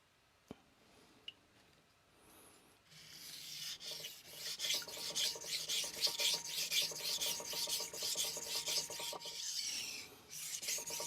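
A stamped R.H. Forschner Victorinox stainless chef knife is sharpened on a King NEO 800 whetstone: after two sharp taps, a wet, rhythmic rasping of steel on stone repeats in steady strokes, close and clear.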